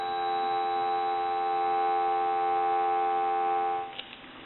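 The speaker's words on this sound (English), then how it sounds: "We'll go ahead and give you some dial tone." Steady dial tone from an Automatic Electric rotary desk telephone under repair, a continuous buzzing hum held for about four seconds before it cuts off abruptly, followed by a faint click.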